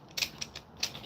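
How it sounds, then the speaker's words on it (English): DeWalt angle grinder with the spindle lock engaged while the wheel is turned and tightened: a few quiet, close ratcheting clicks and small mechanical ticks in quick irregular succession. "With this spindle lock right there, the spindle lock, you can lock the wheel"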